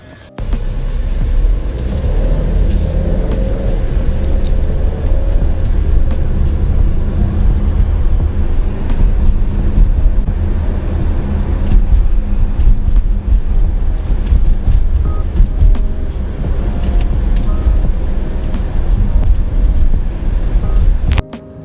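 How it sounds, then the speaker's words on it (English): A 2020 Alfa Romeo Stelvio SUV rolls slowly around a parking lot, heard from inside the cabin as a steady low engine and road rumble with some wind noise, continuous and fairly loud throughout. "just going around this parking lot over here, we're in the Alfa Romeo Stelvio"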